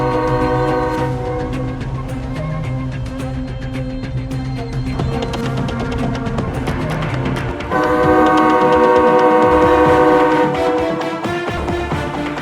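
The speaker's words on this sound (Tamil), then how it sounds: "அந்த ட்ரெயின் ரெண்டும் கடும் கோபத்துல ஊரை நோக்கி வந்துகிட்டு இருக்குது" A rumbling train rolls steadily past with a sustained horn-like tone layered over it, growing louder and fuller toward the end.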